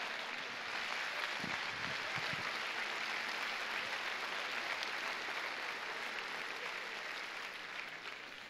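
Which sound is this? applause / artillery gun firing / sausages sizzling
applause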